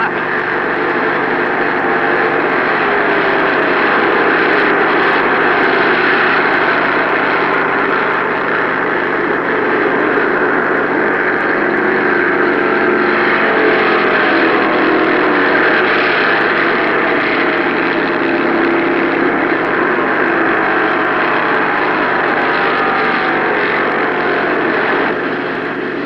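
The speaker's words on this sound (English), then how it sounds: "And here come the cars." Stock cars roaring around the track at the 1966 Daytona 500, a loud, continuous wall of engine noise from a packed field at record speeds, sustained and steady throughout with no pauses.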